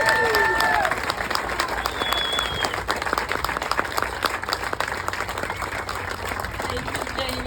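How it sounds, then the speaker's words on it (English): An audience at a community meeting on Hurricane Helene updates breaks into loud sustained applause, many hands clapping together that ease off a little but keep going, with a few voices in the crowd. "give me one more round of applause"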